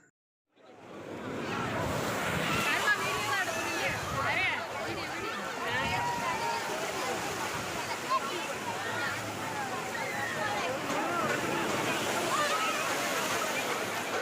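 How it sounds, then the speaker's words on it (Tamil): Sea waves crash and wash continuously along the shore at Tiruchendur temple during the Thaipusam festival, with a loud, steady roar of surf close by, buffeted by some wind. "கடல் அலை சூப்பராக வருது இங்கே பாருங்கள்"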